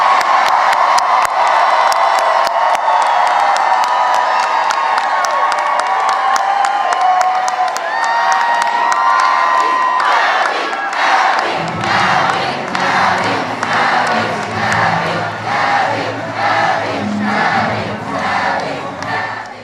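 A large enthusiastic crowd at Abigail Spanberger's Virginia gubernatorial victory speech cheers and roars loudly, rising into rhythmic chanting with sustained whoops and shouts filling the space.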